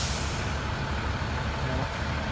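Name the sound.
bus turning in street traffic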